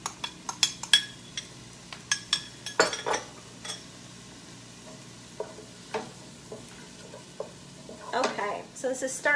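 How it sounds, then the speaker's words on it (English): Two cloves of minced garlic sizzle gently in a pan while a utensil stirs and scrapes, giving off irregular clinks and scrapes over a soft, steady frying hiss, close and fairly quiet. "So this is starting to sizzle here a little bit."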